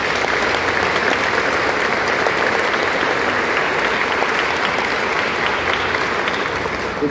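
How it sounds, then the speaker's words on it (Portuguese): A cathedral congregation at a solemn Mass gives a big, sustained round of applause welcoming arriving priests, loud and dense clapping that holds evenly the whole time in a reverberant space. "A gente o acolhe com uma grande salva de palmas."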